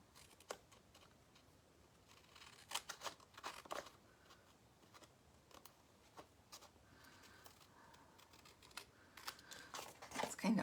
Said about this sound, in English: We're going to trim our extra.